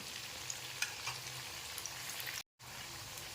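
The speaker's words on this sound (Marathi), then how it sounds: "हलक्या हाताने हे तळून घ्यायचं आहे" Pea cutlets (matar vada) frying in oil make a soft, continuous crackle and bubbling at low volume, with a brief break of silence near the end.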